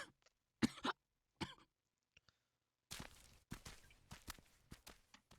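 Several harsh, hacking coughs from a character in the video game Hakuoki come in short bursts. Later they turn into a rough, noisy stretch of throat-clearing and rustling. Quiet gaps fall between the bursts.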